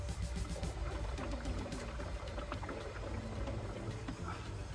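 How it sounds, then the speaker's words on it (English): Air blown into the radiator of a BMW E36 Touring with the bleed screw open makes a steady, close gurgling and bubbling of coolant that runs on for several seconds without pause, with no voices. "Fast trick by blowing into the radiator and opening the bleed screw"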